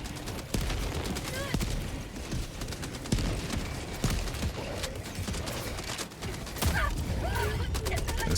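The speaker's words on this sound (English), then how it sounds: "This frickin' mortar, man." Mortar fire and explosions in Helldivers 2 land as dull, repeated thuds within continuous chaotic battle noise and gunfire, while voices talk over the action.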